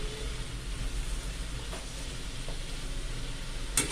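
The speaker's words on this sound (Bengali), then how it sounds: "এইভাবে আমি সবকটা ভেজে ভেজে তুলে নেব বন্ধু" Chatu puri, sattu-stuffed flatbread, frying in hot oil, a soft steady sizzle with faint bubbling, a couple of light clinks and a brief sharper scrape near the end.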